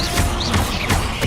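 Levioso levitation spell in Hogwarts Legacy, a short burst of swishing, mechanical magic effects with quick repeated accents, loud and close, amid busy combat sounds.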